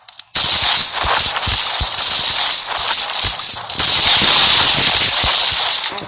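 Rapid gunfire in the online shooter 1v1.LOL, dense bursts of loud sharp shots repeating almost nonstop with brief gaps, close and harsh throughout.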